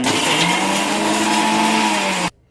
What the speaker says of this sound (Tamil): அரைக்க இஞ்சி, பூண்டு, பாதாம் 3 சேர்த்து லேசா அரைச்சிக்கோங்க